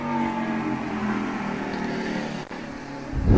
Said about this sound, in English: I don't know if you guys could hear that motorcycle.